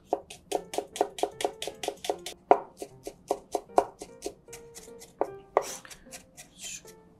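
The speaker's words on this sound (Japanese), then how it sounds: "みじん切りにします。" A knife mincing Japanese long green onion (naga negi) on a cutting board for bonito fishballs, rapid, evenly spaced chopping taps close by, continuing in a steady rhythm with brief pauses.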